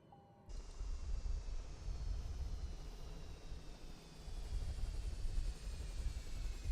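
Simulated TBM930 turboprop engine in Microsoft Flight Simulator winding down from high idle, a steady broadband whine and rumble with slowly falling tones, continuous and fairly loud with no talk.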